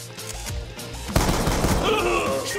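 Dense, loud gunfire from Black Ops 2 zombies mode, a continuous barrage of rapid shots that swells sharply about halfway through and keeps rattling to the end, mixed with game effects.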